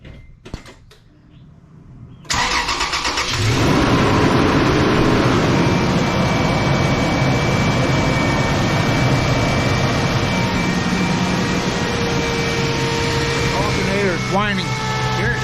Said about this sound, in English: so what I'm going to do is I'm going to crank the truck up.